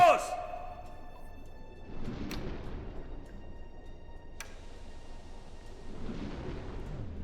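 Torpedoes 1 and 2 launched from a U-boat in the U-Boat video game, heard as a low rumbling launch surge with soft whooshing swells and a distant hum, fairly quiet overall.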